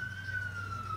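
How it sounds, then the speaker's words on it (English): A steady wailing emergency siren, most likely an ambulance, passes in New York City, a single sustained pitch that slowly drifts lower, heard at moderate distance over a low city rumble. "You're going to hear ambulances all the time."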